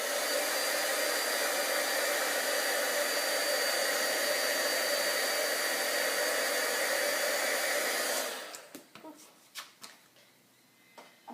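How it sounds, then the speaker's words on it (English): A heat tool blows steadily to heat set colour on a papercraft piece, a constant airy whir that stops abruptly, followed by a few light handling taps. "Before I dye it, I might give it a quick colour heat set."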